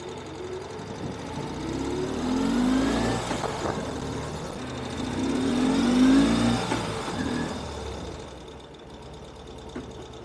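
A 2023 Ural Gear Up IKB Blue sidecar motorcycle pulls away in first gear, its engine swelling twice in revving surges over a steady idle-like rumble, loud and near.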